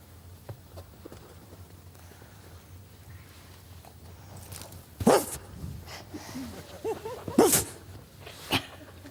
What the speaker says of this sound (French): C'est Shakespeare, le chien de Floride, on va se connecter